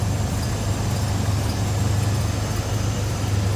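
A 1987 Chevrolet R10 Silverado pickup's engine idles with a steady low rumble, smoothly and evenly throughout, close by, with no voices.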